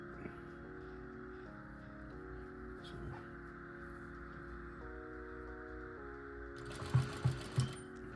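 A sewing machine stitches a fabric bucket hat in a steady mechanical whir, speeding and slowing in short stretches, with a few sharp clicks near the end.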